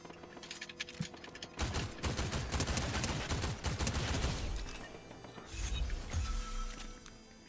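Fortnite gunfire from a video game crackles in dense bursts of rapid automatic shots with sharp impacts and shattering, heard at moderate level without talk.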